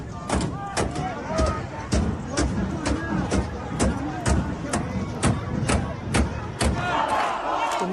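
An angry crowd of protesters in Iran, in the city of Karaj, chants and shouts in loud rhythmic bursts, with dense overlapping voices and sharp repeated thumps throughout.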